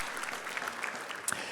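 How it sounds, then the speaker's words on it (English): Audience applause at the Latitude59 2025 tech conference, a dense, even patter of many hands clapping at once, fairly soft and distant across the whole short stretch. "Big applause to Hedi and resilience."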